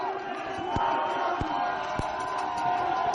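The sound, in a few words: crowd cheering at Concordia Stingers football game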